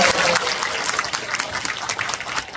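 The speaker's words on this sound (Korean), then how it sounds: "우리 모두를 위해서 박수 한번 부탁드리겠습니다." A crowd at a community gathering with elderly attendees gives the association president a continuous round of applause, dense and even throughout.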